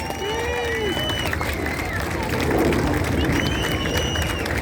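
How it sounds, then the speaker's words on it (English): A large outdoor crowd at the Rhyl Airshow applauds and cheers in a steady broadband wash that swells midway, with faint announcer-style voices and whistling tones drifting over the top. "Give the Hannah Formation a massive round of applause for the wonderful heart in the skies over Rhyl."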